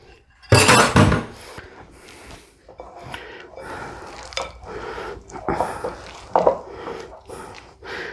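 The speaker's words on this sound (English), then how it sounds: "And I'm going to put this in the bowl and give it a thorough mixing." Eggplant rollatini filling being mixed in a bowl, close wet squishing and soft thuds with occasional clinks of a utensil against the bowl, and a loud sharp burst near the start.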